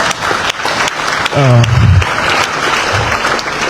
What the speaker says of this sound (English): So let's give them a big hand of applause.